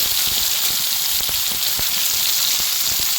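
Onion dropped into hot oil with cumin gives a steady, dense crackling sizzle, crisp and close, with scattered pops and no voices.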